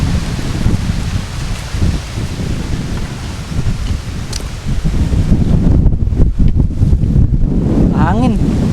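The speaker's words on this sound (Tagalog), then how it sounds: "Hangin." Gusty wind buffeting the microphone over a wide planted field of cogon grass, loud rumbling blasts that build in strength, with a brief voice near the end.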